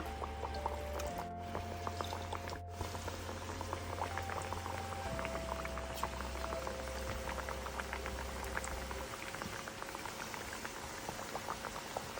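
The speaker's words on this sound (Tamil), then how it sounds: "மசாலா அழகாக எடுத்துட்டு எண்ணெயில் போட்டு பொரிக்க வேண்டியது" Steady crackling and bubbling of bottle gourd bajji fritters deep-frying in hot oil, a continuous sizzle with small pops, close and fairly quiet.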